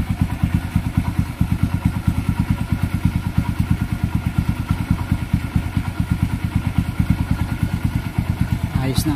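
A restored Kawasaki Barako motorcycle engine idles close by with a fast, steady, even thumping and a rattly mechanical clatter, loud and continuous throughout.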